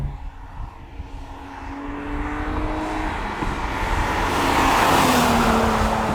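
Alfa Romeo SZ with a V6 engine driving on an open road, a steady engine drone rising gradually in pitch and loudness as it accelerates, with wind and road roar throughout and no talking.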